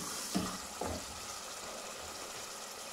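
Peas and potatoes tipped into a hot pan and fried together, giving a steady soft sizzle with two brief clattering drops near the start, close and fairly quiet.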